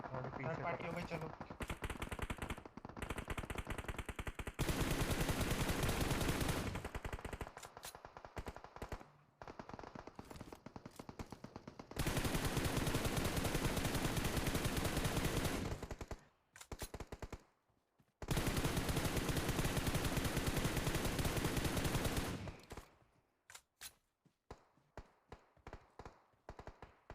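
Long automatic bursts of gunfire from the mobile battle royale game PUBG Mobile, loud and rapid, separated by short quieter pauses with faint background sounds.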